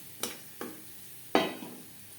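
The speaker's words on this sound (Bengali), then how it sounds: "ফোড়নে দিয়ে দিলাম একটা তেজপাতা, যেটা আমি টুকরো করে নিয়েছি, হাফ চামচ গোটা জিরে।" A piece of bay leaf and half a spoon of whole cumin seeds hit hot oil in a wok, giving a few sharp stirring clacks over a faint, soft sizzle.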